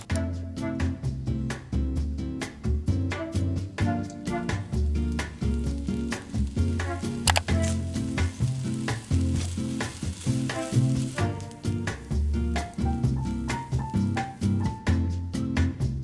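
Fried rice with tofu sizzles and crackles in a hot pan while being stir-fried, with steady frying hiss broken by repeated scraping and tossing knocks from the utensil.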